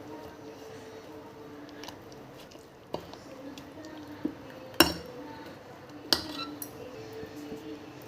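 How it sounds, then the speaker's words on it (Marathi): A spoon works through appe batter with chopped onion and grated potato in a bowl, giving a soft, wet squishing with a few sharp clinks against the rim, quiet and close with no talking. "आता हे मिक्स करून घेत आहे।"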